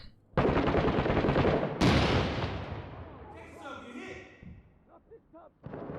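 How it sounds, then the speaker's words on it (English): A grenade explodes and gunfire crackles in the Six Days in Fallujah shooter game during a compound clearing, with two loud, close blasts followed by fading rumble and scattered shots, while players talk over voice chat. "Grenade out first floor."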